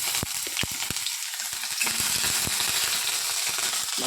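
Ginger garlic paste fries in a hot pan, spattering with steady close sizzling and scattered sharp pops and crackles throughout.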